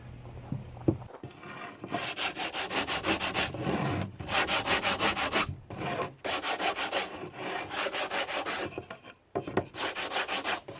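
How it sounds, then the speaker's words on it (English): Cement board throwing bat sanded with an 80-grit sanding-belt strip stapled to a wooden block, loud rasping back-and-forth strokes in bursts, each a fast scratchy rub, with short pauses between runs. "I've taken a piece of this sanding belt and stapled it onto a block of wood. And this gives me a nice sanding block for sanding these things"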